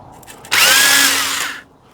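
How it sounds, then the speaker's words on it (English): An old electric drill spins up against a brake hub to clean it, a loud whirring grind lasting about a second before it cuts off, with quiet surroundings before and after. "That drill is about, what, 70 years old?"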